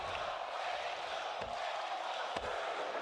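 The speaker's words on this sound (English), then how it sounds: "This crowd in Atlanta coming unglued for this match." Wrestling crowd in an Atlanta arena cheering at an AEW event, a dense, loud roar that holds steady throughout, with a couple of brief thumps standing out from it.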